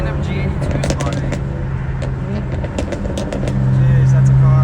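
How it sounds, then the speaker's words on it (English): A passing car, spotted as a BMW G82, revs up on the street; a steady engine drone rises near the end while people talk excitedly over it. "Jeez, that's a car."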